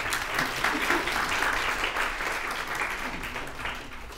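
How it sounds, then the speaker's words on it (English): Dense, steady audience clapping following a talk on dignity in the criminal justice system, a loud continuous wash of applause from many hands lasting about four seconds without speech over it. "We heard everyone clapping."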